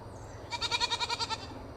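Goats on a farm give a run of about eight rapid, wavering bleats merged into one quavering call, close and clear over a quiet background, with no talking.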